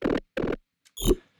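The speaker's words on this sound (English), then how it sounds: "I'll show you the main little grot sound, but without any effects on it." Three short, raspy grot synth bass blips from a jump-up drum and bass track sound alone and dry with no effects, the last with a bright, squelchy sweep, separated by brief silences.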